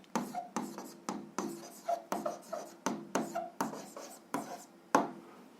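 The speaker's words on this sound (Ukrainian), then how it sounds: "записуємо відповідь, пишемо відповідь" Pen writing down an answer on paper, a steady run of about a dozen short scratchy strokes in even rhythm, close and clear with no talk.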